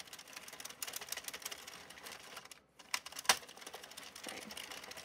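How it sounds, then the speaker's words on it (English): An Addi knitting machine being cranked around its needle ring while making a beanie, giving a close, continuous rattling clatter, and a single sharp click from the row counter rings out once partway through. "That click is the counter counting the row."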